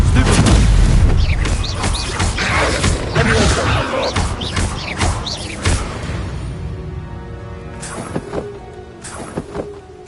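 Explosive fire spell in the Hogwarts Legacy game, a loud booming blast with heavy low rumble that crashes and crackles, then decays into scattered debris clatter and ringing tail over several seconds.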